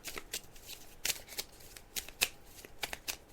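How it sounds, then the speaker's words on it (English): Fortune cards shuffled by hand close up, a quick run of crisp papery riffles and taps in an uneven rhythm, fairly loud and alone. "I'm just shuffling the cards now, Violet."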